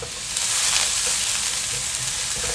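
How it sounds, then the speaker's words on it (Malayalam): Onion, garlic, ginger and green chili sauté in a hot pan for a tender jackfruit dish, giving a loud, dense, continuous hiss and sizzle up close, with no talking. "ഇതെല്ലാം കൂടി നന്നായി ഒന്ന് വഴറ്റാം"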